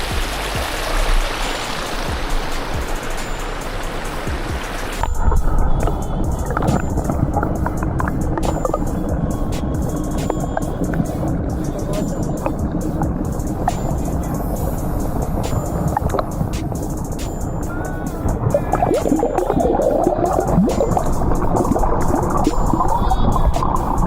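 A mountain stream rushes steadily and close by, a broad, continuous wash of flowing water with gurgling texture, unbroken for the whole stretch, with a brief shift in tone early on.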